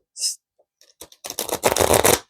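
A new tarot deck with green-edged cardstock being shuffled up close, starting with a brief card flick, a few sparse taps, then a dense, continuous rustling shuffle building to a loud, steady flutter.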